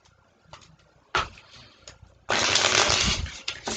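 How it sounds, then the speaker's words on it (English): A Native American tarot deck is shuffled in quick bursts, close papery slaps and riffles separated by short pauses, ending in a longer loud riffle. "So I'm going to shuffle the cards"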